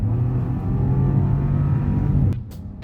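A 2024 Chevrolet Envista Avenir SUV with a 1.2 liter EcoTec engine accelerates with a steady, loud engine drone and rumble that holds for about two seconds, then drops away abruptly near the end.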